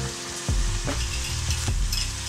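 Vegetables stew and sizzle in a pot while a spoon stirs them in a few scraping strokes, close and steady.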